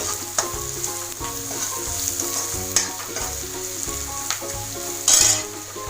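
Red chili, coriander and cumin powder sizzle steadily in hot oil while a spoon scrapes and stirs the pan, for a South Indian sambar; the frying hiss is continuous, with a few sharper scrapes and clinks and no talking.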